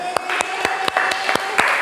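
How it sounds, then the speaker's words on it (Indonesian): Students in a physics class on heat transfer clap together in a steady rhythm, about seven evenly spaced claps under a faint background murmur and a thin steady tone. "Tepuk tangan."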